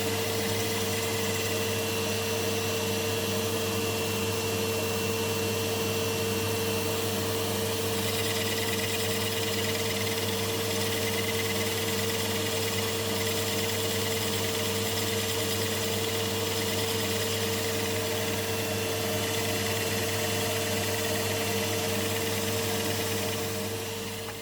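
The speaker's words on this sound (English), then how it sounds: "I thought I'd try rigging up my vacuum cleaner and see if it'll take most of the wood turnings away" A steady, droning motor hum runs without a break, a constant whine of a vacuum cleaner running nearby extracting wood turnings from a lathe, with a faint rattling texture.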